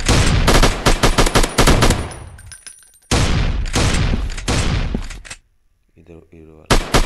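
AK-47 fire in the mobile shooting game Gun Strike: loud, rapid automatic bursts that stop abruptly, resume after a brief gap and then fade into quieter in-game sounds before one more burst.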